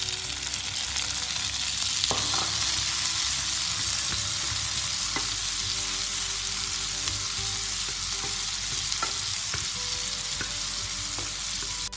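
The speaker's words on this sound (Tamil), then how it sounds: "தக்காளியெல்லாம் நல்லா வதங்கிடுச்சு" Tomatoes sautéing in a pan for a fish curry: a dense, loud, steady sizzle throughout, broken by several faint ladle taps and stirring scrapes.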